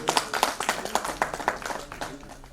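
Hall audience at an award ceremony in Lucknow gives a quick round of applause for film actress Shalu Chauhan, brisk close clapping lasting about two seconds before thinning out.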